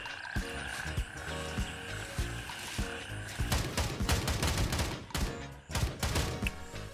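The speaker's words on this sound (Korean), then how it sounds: "야 개구리 소리 존나 시끄러" Frogs croak loudly in the video game Gray Zone Warfare, a dense chorus of rapid rattling calls in repeated pulsing bursts that swell and overlap, close and continuous.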